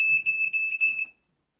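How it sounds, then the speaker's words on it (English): A fire alarm goes off indoors in a kitchen with burnt dinner, a loud, piercing electronic beep pulsing in quick bursts for about a second before cutting out. "The fire alarm's going off."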